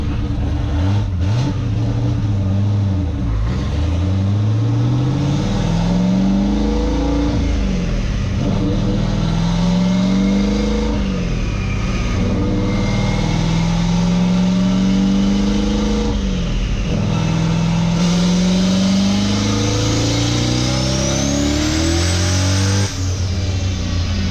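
A car roars loudly on a dyno through several long rising pulls, its revs climbing, dropping and climbing again in repeated sweeps at close range.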